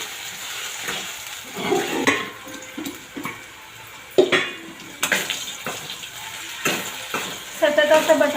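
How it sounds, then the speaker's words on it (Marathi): Potatoes being stirred as they fry in a pan over full high heat, with irregular scraping and clinks of a utensil against the pan over a sizzle, and a voice speaking in places. "सतत असं बटाटा आपण हलवत राहायचं, म्हणजे बटाटा खाली लागणार नाही आणि करपला जाणार नाही"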